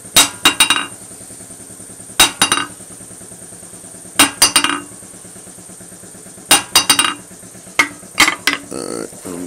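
A hammer strikes a Harbor Freight anvil in bright, ringing clusters of two or three blows, repeating every couple of seconds, loud and close over a steady background hum.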